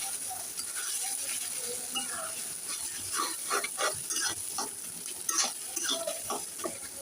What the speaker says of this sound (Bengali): আমি মাছটা দিয়ে দিলাম দিয়ে ভালো করে ভেজে নেব